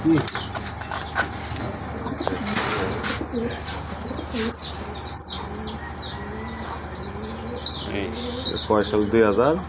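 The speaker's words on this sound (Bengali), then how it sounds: "খুবই সুন্দর আর মোটা ঠোঁটের কবুতর" Pigeons, among them a plump, thick-beaked breed, coo and flutter nearby in a loft, with scattered chirps and wingbeats under people talking.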